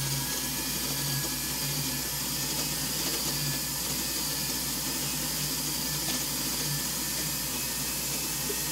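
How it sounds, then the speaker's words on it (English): Rotary tool fitted with a rubber wheel running steadily on a jewelry channel setting, a constant whirring drone close by with no pauses and no talk. "Now I'm going to take a rubber wheel"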